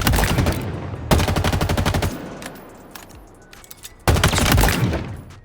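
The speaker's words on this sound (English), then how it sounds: "The very first one is the MA40 assault rifle" In Halo Infinite, the MA40 assault rifle rattles off loud, close bursts of fully automatic fire. A burst of about two seconds gives way to a quieter gap with scattered sounds, then another burst breaks out.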